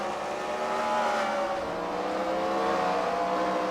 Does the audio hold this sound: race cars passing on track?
yes